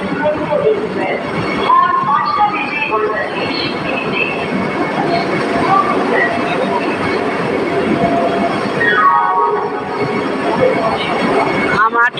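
A Howrah–Mumbai passenger train rolls close by at a platform, loud continuous rumble with clattering wheels and a rising metallic squeal near the end, with voices talking beneath it.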